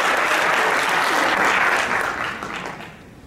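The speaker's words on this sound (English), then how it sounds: "Yeah, give her a round of applause!" A crowd at a science skeptics' talk claps loudly for a volunteer coming up on stage, a dense burst of applause that holds steady and then fades out over about three seconds.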